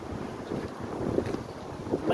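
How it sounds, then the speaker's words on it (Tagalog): Strong, cold wind gusting outdoors among moving trees, a steady broadband rush with fluctuating buffeting against the microphone throughout. "talagang malakas ang hangin, malamig ang hangin"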